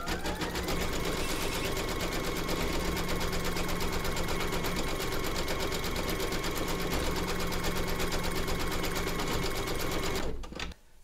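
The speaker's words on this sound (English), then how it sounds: "Load your thread colour for the inside of the ears into your machine and then stitch round number" An embroidery machine stitches pink thread for the inside of a bunny's ears, its fast, even needle chatter running steadily and loudly for about ten seconds before cutting off.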